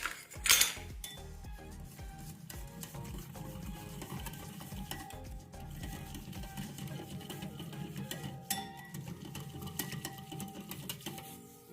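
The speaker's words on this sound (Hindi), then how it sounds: "और इसको करना है अच्छे से मिक्स।" A spoon stirs gram flour batter mixed with water in a bowl, a quiet steady churning with occasional clinks against the bowl, starting with a brief sharper knock.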